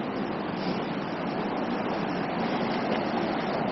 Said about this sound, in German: Hier ist der kleine Bach.